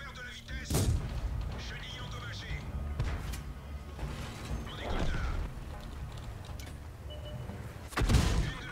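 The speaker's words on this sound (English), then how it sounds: "There's the artillery again." Artillery booms in the tank game World of Tanks, with heavy, distant-sounding blasts near the start and end over a rumbling battle backdrop, while a voice talks.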